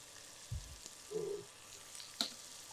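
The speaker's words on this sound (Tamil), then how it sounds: "இப்போது இதில் இங்கே வந்து பட்டர் வந்து மெல்ட் ஆகிட்டுருக்கு." Butter melts in a pan with a faint, soft sizzle, a quiet hiss broken by a couple of small pops and clicks.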